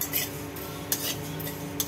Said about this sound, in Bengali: এগুলো খোলায় ভালো করে ভাজা হচ্ছে।